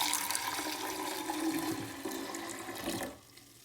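Sixteen ounces of vinegar pours into the reservoir of a Keurig K Supreme coffee maker in a steady, splashing gurgle that runs for about three seconds, then stops abruptly, leaving a quiet room.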